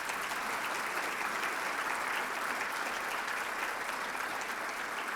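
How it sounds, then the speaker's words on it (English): Audience at a State of the City address in Marion, Iowa, clapping in a steady, full round of applause throughout. "Does that deserve applause?"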